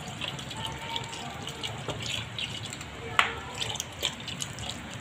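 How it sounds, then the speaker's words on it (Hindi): Water poured into a pot of beef nihari, a soft continuous splashing trickle with small drips and clinks, close and moderately quiet. "इसमें मैं इतना पानी डालूंगी कि ये गोश्त जो है इसके अंदर अच्छी तरह गल जाए"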